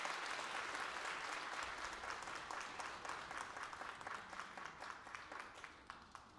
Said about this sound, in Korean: 박수가 끊기질 않을 것 같아서